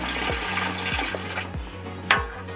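Water pours into a pot of Patagonian lamb stew with beef broth, a continuous splashing and filling sound close by, ending in a short, sharper splash.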